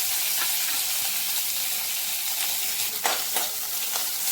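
Onion and garlic frying in oil in a kadhai, a steady loud sizzle with scraping stir clicks near the end, no voices.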